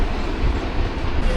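Rehman Baba Express passenger train approaching Rawalpindi railway station, a brief rumbling of wheels and carriages heard from on board, steady and close.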